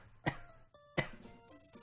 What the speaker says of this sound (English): I still have a cough, so I apologize